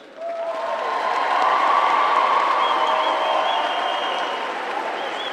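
Graduation ceremony audience at a college commencement applauds in a steady, moderately distant wave of clapping with a few cheers and whistles, swelling early and holding throughout.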